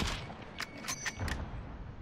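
A few distant gunshots in Warzone, several quick faint cracks in a short burst over low background rumble.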